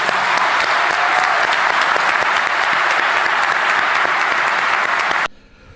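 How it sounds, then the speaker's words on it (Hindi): Loud, dense applause from a large crowd, steady and continuous, then cutting off abruptly near the end. "ओह कितनी तालियां बाज रही हैं, कितनी तालियां बाज रही हैं।"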